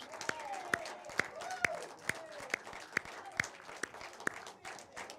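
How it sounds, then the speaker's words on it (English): An audience welcoming a singer at a live show, clapping in a steady, evenly spaced rhythm, with a voice and a tonal line running underneath. "How about him? Big round of applause."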